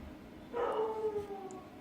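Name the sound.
dog barking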